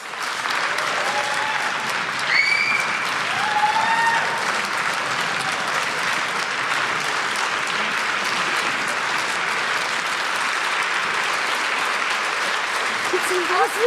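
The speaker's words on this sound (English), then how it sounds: "big applause." Sustained audience applause at the EMYA 2025 awards ceremony, steady and full throughout, with whoops and a voice briefly calling out over the clapping.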